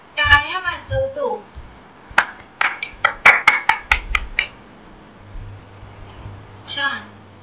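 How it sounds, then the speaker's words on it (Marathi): A child claps hands at a fast tempo in a rhythm game, a quick run of sharp claps near the mic between stretches of speech. "आणि ही जलद गती आहे आई. मी टाळ्या वाजवतो."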